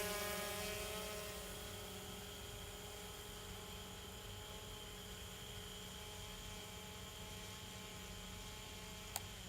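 A camera drone lifts off and hovers, its rotors giving a steady, fairly faint whine with layered harmonic tones, continuous throughout under a low background rumble, ending with a brief click.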